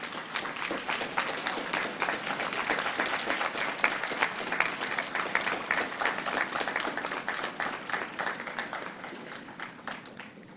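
A large convocation audience at the University of Guelph applauds steadily, with dense, sustained clapping that holds at an even level and slowly tapers toward the end, with no voices over it.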